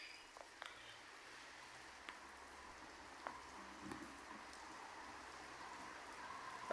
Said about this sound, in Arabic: أمطار الخير، أمطار الخير، الحمد لله والشكر لله تتساقط المملكة المغربية